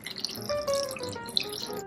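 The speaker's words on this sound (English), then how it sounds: "I am just going to dump the brine and make sure that you stir it really good" Warm brine being poured into a jar of cherry tomatoes and basil, a soft continuous trickle and splash close by, with no talking.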